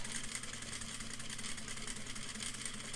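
A sewing machine stitches across fabric in a steady, continuous mechanical hum, close and even throughout with no talking.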